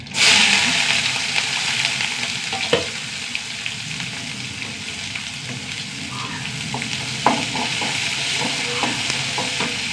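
Mustard seeds, curry leaves, onion and three green chilies frying in a hot pan, a steady close sizzle running throughout, with occasional sharper crackles and pops from the spattering seeds.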